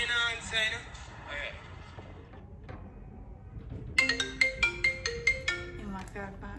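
Phone ringtone sounding in a short run of bright repeated electronic tones near the end, following a stretch of quieter tonal sounds and faint room noise.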